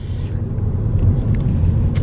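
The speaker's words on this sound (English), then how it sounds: "we are now in the car and we are going" Inside a family car driving on the road during a summer getaway: a steady, loud low rumble of engine and tyres fills the cabin, with a few faint clicks and no talk.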